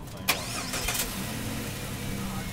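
A car engine cranks and catches, then settles into a steady idle that runs to the end of the short clip, with no talking.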